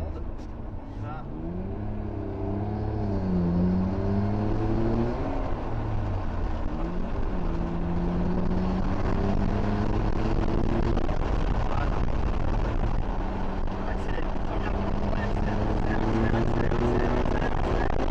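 A Nissan Skyline GT-R R34 pulls hard in second gear from inside the car, its engine note climbing repeatedly in loud rising sweeps with brief dips between them.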